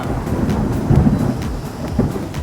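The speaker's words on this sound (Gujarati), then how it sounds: "અમે લોકો અહીંયા ઊભા છીએ અત્યારે વરસાદમાં" Heavy rain pours steadily around people standing outdoors near a temple, a dense continuous wash of drops with low rumbling swells and no voices.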